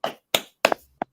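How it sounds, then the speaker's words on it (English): A few sharp claps in quick succession, close and loud, with short gaps and a final softer tap. "Let's clap it up."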